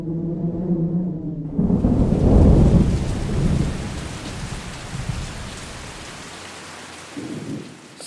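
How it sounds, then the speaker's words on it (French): Heavy rain pours steadily after a deep rumble of thunder, loud and close, with a second faint rumble near the end. "C'est finalement sous une pluie battante que, trempé jusqu'aux os"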